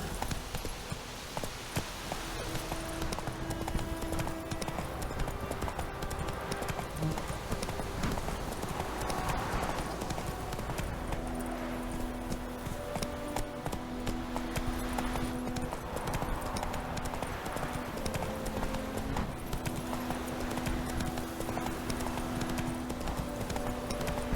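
A horse in the video game The Witcher 3 trots with steady rhythmic hoof clip-clops on the ground throughout, over a constant game ambience.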